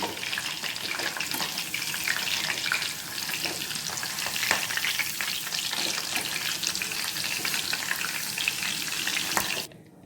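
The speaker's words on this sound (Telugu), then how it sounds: "ఈ పచ్చిమిర్చి కరివేపాకు కూడా బాగా వేపేసుకున్నానండి గార్నిష్ కోసమని" Green chillies and curry leaves frying in hot oil in AMC cookware, a loud, continuous crackling sizzle lasting about ten seconds before cutting off abruptly.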